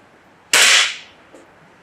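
A single sharp crack from a Gamo Wildcat .22 air rifle firing a TS-22 pellet in a backyard, loud and close, with a faint thud shortly after.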